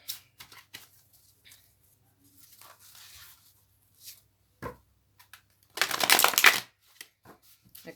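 Spirit Oracle cards being shuffled by hand: a loud, dense burst of riffling about half a second long, with scattered soft card taps and handling sounds around it in an otherwise quiet room.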